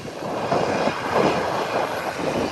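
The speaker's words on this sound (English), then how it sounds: "And as Southwest comes in, the private craft is departing." A private aircraft departing from an airport runway as a Southwest airliner lands, a steady distant engine roar with gentle swells, no voices.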